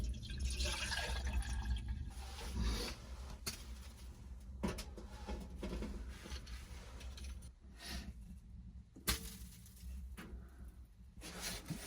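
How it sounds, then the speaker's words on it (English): Snow melts inside a truck camper during a blizzard and drips onto a hot wood stove, giving faint, scattered drips and sizzles against a soft background hiss. "The dripping, as the snow melts, the dripping water onto the stove is definitely observable."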